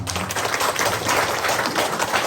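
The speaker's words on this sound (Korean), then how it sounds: "하나님께 영광의 박수 올려드리겠습니다" A church congregation at a 50th anniversary service applauds in praise: a thick, continuous wash of clapping that fills the whole two seconds at an even, fairly loud level.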